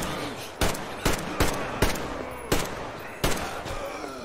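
Shotgun fire in Metro Exodus, six sharp, loud blasts at uneven intervals over roughly four seconds, each with a short echoing tail, no talking.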